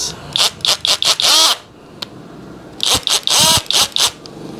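Tekiro CD HD2403 cordless drill, with drilling, screwdriving and hammer modes, whirring in two bursts of short revving pulses separated by a brief pause, each spin rising and falling in pitch, loud and close with no talk.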